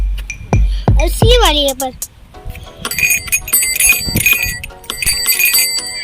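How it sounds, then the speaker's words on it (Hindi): Metal bell hanging from a cow's neck, ringing in bright repeated clanks over the second half, after someone speaks briefly at the start, outdoors on a trip to Lonavala. "और ये काऊ है ना, उसके गले में घंटी है"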